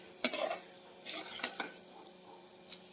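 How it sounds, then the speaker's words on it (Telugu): Tempering spices of urad dal, chana dal, cumin and mustard seeds frying in a pan, faint and quiet, with a few clinks and scrapes of a utensil and light crackling. "ఇలా తిరగమాత దినుసులు వేసుకొని దోరగా వేయించుకోవాలండి"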